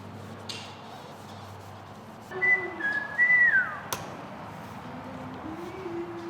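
A person whistles a short tune, a few clear notes sliding downward, over quiet room noise with a sharp tap in between.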